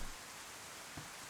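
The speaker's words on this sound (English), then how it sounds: "Oh, it's raining." Steady rain falls in a video game, a continuous hiss with a soft low thump near the end, heard alone without talk.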